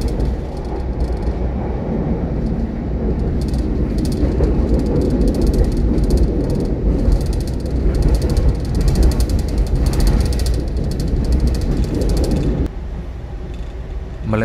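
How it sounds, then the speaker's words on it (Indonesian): Argo Parahyangan passenger train rolling on the line near Cimahi station, a loud continuous rumble of wheels and carriage rattle with repeated clanks and ratcheting clicks, heard from on board. "kereta api Argo Parahyangan tiba di stasiun Cimahi"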